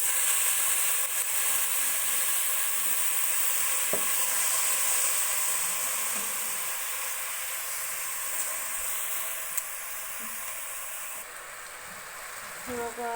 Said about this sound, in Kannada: ಈಗ ಇದಕ್ಕೆ 2 ಲೋಟ ರೈಸ್ ಹಾಕೋತಾ ಇದ್ದೀನಿ.